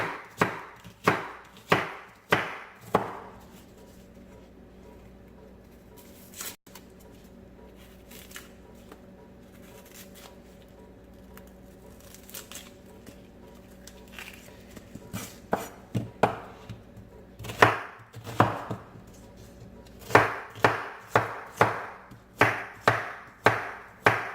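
A knife dices an onion on a cutting board in quick rhythmic strokes, pausing for a long quiet stretch before the chopping resumes close by.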